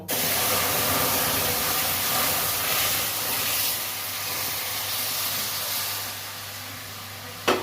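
Hot milk poured into a pan of fried flattened rice and semolina for payesh, a loud, steady broadband sizzle and hiss that holds for several seconds with no talking.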